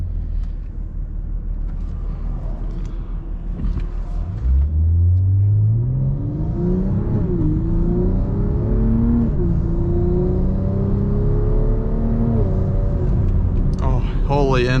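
A BMW M340i fitted with downpipes and an aftermarket exhaust revs up from a low idle rumble into a rising, throaty engine drone that climbs through the gears, loud and close from inside the car, with a voice speaking over it.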